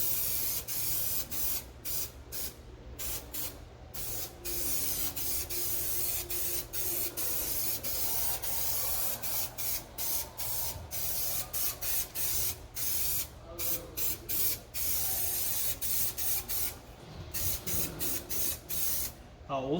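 Spray adhesive hisses in a steady light coat over carpet inside a 1992 Chevy Silverado, one long continuous spray broken by brief pauses, close and fairly quiet.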